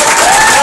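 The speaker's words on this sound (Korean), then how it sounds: "최선의 박수로" Brief, loud applause from a crowd fills the room at a campaign office opening, steady and dense clapping throughout.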